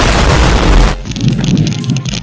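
Sodium metal reacting violently in Coca-Cola sets off a loud, dense burst of crackling and blasting for about a second, then gives way to softer fizzing and popping.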